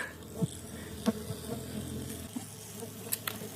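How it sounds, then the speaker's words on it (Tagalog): A steady hum of many stingless bees buzzing nearby, with a few louder individual insects zipping close past the ear. "Daming bubuyog."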